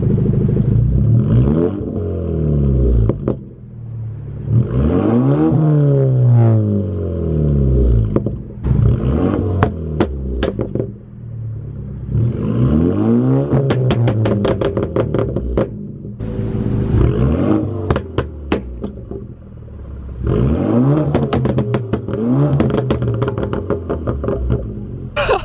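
BMW F30 with a bootmod3 tune revving repeatedly in place, each blip rising and falling in pitch, loud and close with a rumbling exhaust, run through Eco Pro, Comfort and Sport Plus modes.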